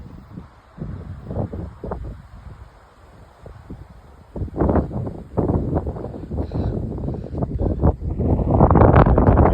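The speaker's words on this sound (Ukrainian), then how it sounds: "Вітер сильний, хмари." Strong gusty wind buffets the microphone outdoors on a cloudy day in low, uneven roaring bursts, growing stronger and louder toward the end, with no voices.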